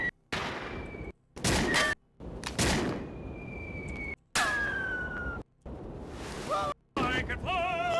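Gunshots in the Fox Hunt game come as several loud, sharp bursts in quick, uneven succession, separated by brief silences, with whistling and swooshing effects between them.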